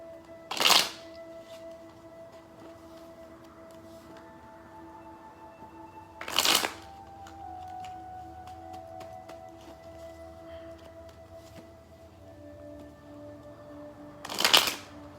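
Three brief riffling bursts of tarot cards being shuffled, spaced several seconds apart, over a quiet background with faint tonal hum.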